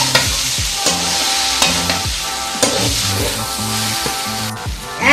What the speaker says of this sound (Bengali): মাছটা দিয়েও আবার নেড়ে চেড়ে নেব।